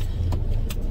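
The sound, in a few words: car being parked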